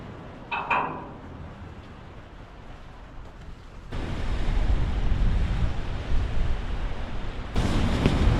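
Sea waves in the Bering Sea heard from aboard a ship, a steady broadband wash and rumble that swells louder partway through, with a brief knock near the start and no voices.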